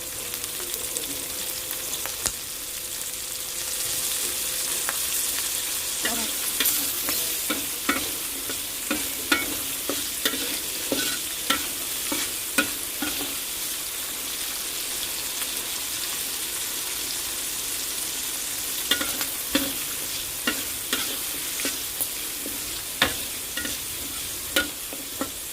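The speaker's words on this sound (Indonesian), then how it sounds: "Kita goreng-goreng seperti ini, kita bolak-balik hingga matangnya merata." Shallots, chilies and garlic stir-fried in a pan for a sambal bajak, giving a steady sizzle that runs throughout, broken by frequent sharp clicks and scrapes of the utensil turning the mixture.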